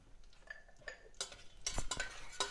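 A spoon stirs mace, a few cloves, cinnamon and two bay leaves in a pot for boneless chicken curry, giving soft scraping strokes and light metallic clinks, quiet and close.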